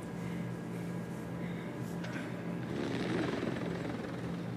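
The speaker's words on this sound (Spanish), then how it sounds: "Nada más suena el helicóptero." Helicopter in the video game Call of Duty: Warzone, a steady droning rotor thrum that holds loud and continuous throughout, swelling slightly near the end with no other sounds over it.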